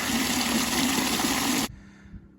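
Well water pumped into farm tanks rushes in a loud, steady gush that cuts off abruptly, leaving faint background noise and a small knock.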